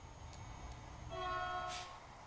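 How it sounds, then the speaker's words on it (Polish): A passenger train in the video game Polish Car Driving rumbles steadily while a horn-like tonal blast rises partway through, sustained for about a second over the low rolling noise. "Osobowy pociąg."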